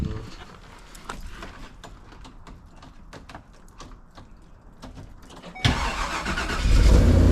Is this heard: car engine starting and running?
yes